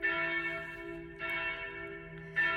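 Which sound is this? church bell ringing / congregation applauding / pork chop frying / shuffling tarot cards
church bell ringing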